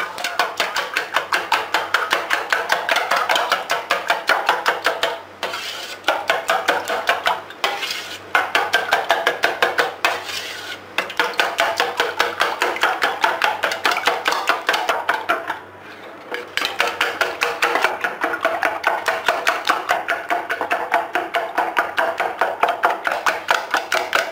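Whisk beating chocolate walnut cake batter in a bowl, rapid rhythmic clinking strokes continuing for over twenty seconds with only brief pauses, close and fairly loud.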